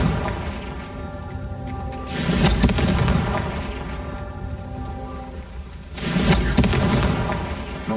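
Two Confringo blasting spells explode in the Hogwarts Legacy video game, each a loud booming burst with a crackling, rain-like wash that rumbles for about two seconds. The blasts come roughly four seconds apart over a steady game ambience.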